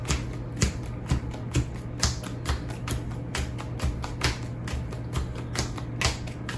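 A deck of Heat board game cards is shuffled by hand, producing a close series of rhythmic riffling snaps and taps roughly twice per second over a low hum.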